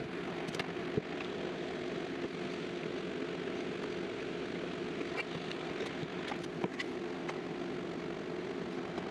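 A steady broadband whir of a box fan air filter running fills the background at a constant level, with a few faint clicks and knocks on top.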